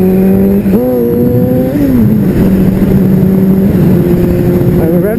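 A car engine revving on a narrow country road with a tree-lined shoulder at around 100 km/h, a loud sustained in-cabin drone with clear pitch rises as the revs climb and settle.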